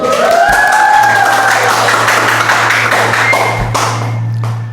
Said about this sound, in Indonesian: Tepuk tangan dong teman-teman